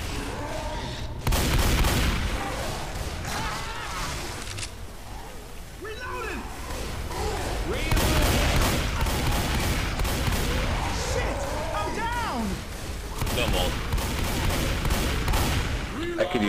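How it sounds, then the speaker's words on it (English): Repeated auto sniper rifle shots crack in the video game Left 4 Dead 2, mixed with other gunfire and game noise in busy co-op combat, while players talk over the action. "Maybe I should use the auto sniper."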